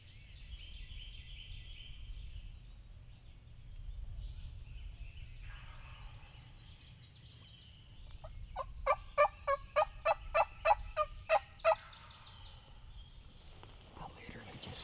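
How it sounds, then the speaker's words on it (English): A wild turkey gobbles in a rapid, rattling, not very loud burst about 40 yards away during a turkey hunt, amid quiet outdoor ambience and soft whispered talk. "I literally just saw the turkey. He ain't gobbling loud."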